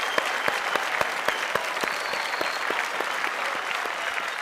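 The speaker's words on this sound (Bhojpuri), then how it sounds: "तालियां सबके लिए।" A studio audience at a Bhojpuri quiz game show breaks into sustained applause, with dense rhythmic clapping from many hands, loud and steady throughout, with no voices heard.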